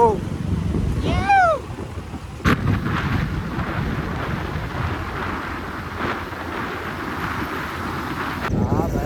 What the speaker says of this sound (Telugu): మొత్తం గాలి వస్తుంది, మొత్తం తుఫాన్ గాలి అనుకో